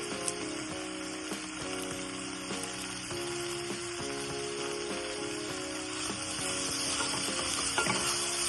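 Curry leaves dropped into hot tempering oil with garlic and ginger, giving a continuous close sizzle and crackle with stirring scrapes throughout, no talking.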